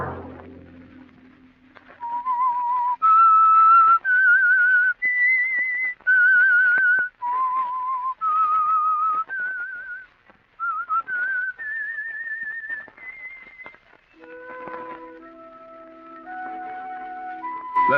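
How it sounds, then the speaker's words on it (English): A whistler performs the signature radio-show signal tune, a melodic sequence of clear sustained whistled notes rising and falling over many seconds, ending with a softer lower passage, loud and alone with no talking. "Let that whistle be your signal for the Whistler each Sunday night at this same time."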